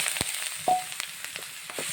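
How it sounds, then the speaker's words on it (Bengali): Sliced onions dropped into hot oil left from frying fish, giving a soft steady sizzle with a few sharp crackles and pops, close and quiet. "মাছ ভাজা তেলে পেঁয়াজ দিয়ে দিলাম"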